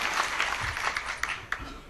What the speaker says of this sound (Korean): 여러분 격려의 뜨거운 박수를 부탁합니다.